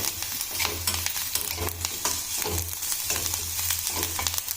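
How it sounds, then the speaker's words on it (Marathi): Garlic frying in a pan for a potato and fenugreek dish, a steady sizzle broken by repeated rhythmic scraping stirs, close and moderately loud over a low hum. "लसण परतून घ्यायचा।"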